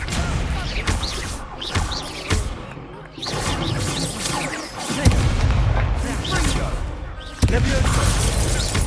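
Spells being cast in Hogwarts Legacy, including the Incendio fire spell: repeated heavy booms, crackling bursts and crashes follow one another in quick succession, with a voice calling out over the loud combat noise.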